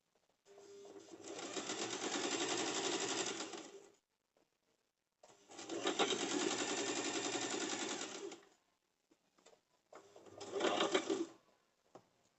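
A sewing machine stitching a cigar pant runs in three separate bursts of steady, rapid rattling, each three to four seconds long and broken by short silences, close and alone.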